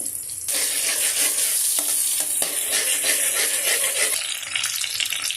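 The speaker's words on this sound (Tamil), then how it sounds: "நல்லா கனமான கடாயை எடுத்துக்கோங்க அது நல்லா சூடான பிறகு அதில் பட்டர் போட்டு நல்லா கரையை விடுங்க" Butter melting and sizzling in a hot heavy kadai, a steady loud broadband hiss running through the whole stretch with a few faint stirring clicks. No one speaks.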